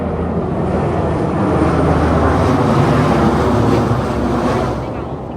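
A low-flying airplane roars loudly overhead while landing near city buildings close to an airport, a broad, steady rumble that swells and then fades slightly at the end, with wind buffeting.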